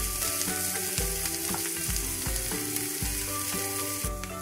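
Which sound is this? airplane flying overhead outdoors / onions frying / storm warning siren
onions frying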